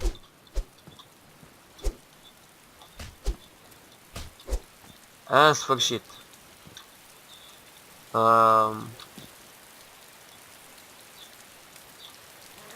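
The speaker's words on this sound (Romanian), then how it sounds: "Și din nou plouă." Light rain patters softly with scattered drop ticks in the video game DayZ, while a voice speaks briefly twice over it.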